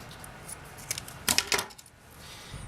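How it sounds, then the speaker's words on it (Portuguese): Small metal clicks and taps come as a zipper's teeth are pried open to fit a slider, a few quick close ticks clustered together before quiet. "Vou abrir aqui o dentinho do zíper."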